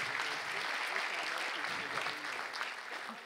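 Steady applause from an audience at a local college talent show final in Trois-Rivières, dense and continuous clapping at moderate volume throughout.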